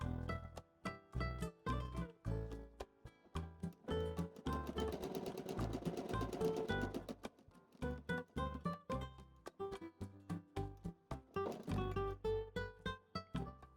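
Domestic sewing machine stitching pinned quilt squares together, a rapid rhythmic run of needle strokes in short bursts and one longer stretch, close and moderately quiet.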